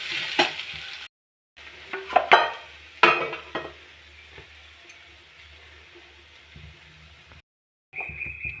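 Ingredients dry-roast in a pan while a spoon stirs them, giving crackling sizzle and scraping bursts that come and go between short quiet gaps, close up with no talk.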